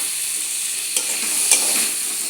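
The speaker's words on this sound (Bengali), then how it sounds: "আলুগুলাকে মশলার সঙ্গে একটু ভাজি করে নেব।" Potatoes fry with spices in a pan, giving a loud, close, continuous sizzle, with a couple of brief scraping stirs breaking through, and no one speaking.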